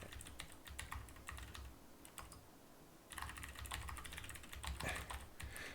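Code being typed on a computer keyboard: rapid, irregular key clicks, close and fairly quiet, with a short lull before a busier burst of keystrokes.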